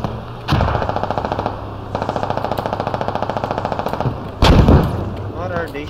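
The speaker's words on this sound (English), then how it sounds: "What are they shooting at?" Two long, rapid bursts of heavy .50 cal machine gun fire ring out in the video game Squad, followed by a loud, deep blast. The shots are close and evenly spaced.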